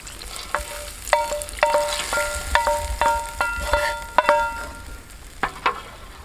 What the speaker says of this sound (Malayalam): അപ്പോൾ നമ്മുടെ മുന്തിരി വറുത്ത് നമുക്ക് പായസത്തിലേക്ക് ഇട്ട് കൊടുക്കാം.